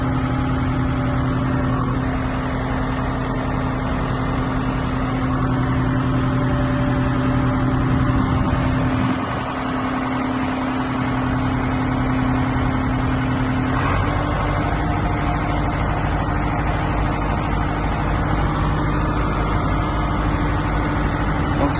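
A car engine driving slowly up ramps onto a trailer, a steady low running hum with a faint tonal whine, briefly dipping midway and then holding at a constant level, with no talk.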